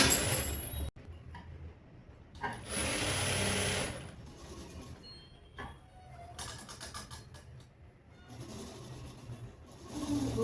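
Sewing machine stitching a blouse: steady whirring bursts of stitching that start and stop over several seconds, fairly quiet and close, with no talk.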